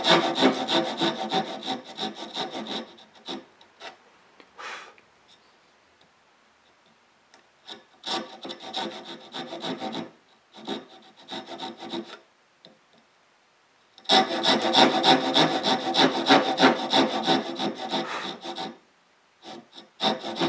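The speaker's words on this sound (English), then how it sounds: "right there, I'm just cutting to almost to the line and almost to the bottom." Hand saw cutting kerfs into a block of wood for a wooden mallet with dual rising dovetails, steady close rasping strokes in several bursts separated by short pauses, with no talking.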